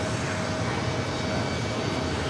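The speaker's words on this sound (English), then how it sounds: "It's American Airlines 1186 heading off to the Valley of the Sun, Phoenix." An American Airlines jet departing New York JFK for Phoenix fills a short stretch with an even, dense engine roar, loud and unbroken.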